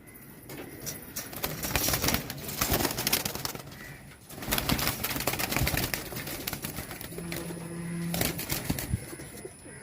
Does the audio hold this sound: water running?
no